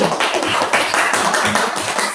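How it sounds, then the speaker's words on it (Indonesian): A class of students clapping their hands together in a school classroom, a short, loud, blurred flurry of claps. "Tepuk tangan sekali lagi."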